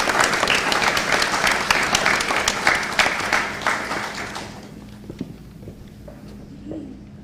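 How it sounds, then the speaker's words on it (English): An audience claps in a full round of applause that gradually thins and fades out into scattered claps and quiet room noise. "Let's give all of each other a great round of applause."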